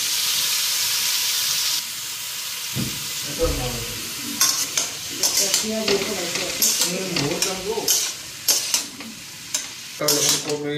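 Cabbage and peas stir-frying in a pan for a simple home-style cabbage ghonto, a steady hiss and sizzle at first, then irregular scraping stir strokes and clinks over continuing frying noise, close and moderately loud.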